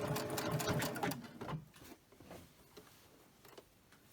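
A sewing machine stitches a pillowcase seam with a 12-inch needle, running steadily close by for about a second and a half, then stopping into quiet handling noises and faint clicks.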